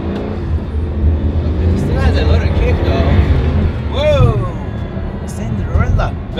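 A Pagani supercar with upgrades rolls along at low speed with a steady engine drone and road rumble, while someone talks loudly over it nearly throughout.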